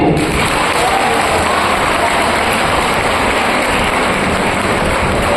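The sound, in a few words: audience applause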